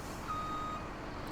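Steady reversing beep from a Peterbilt truck backing up in Farming Simulator 17, a thin continuous tone riding over a loud low engine rumble, with no talking.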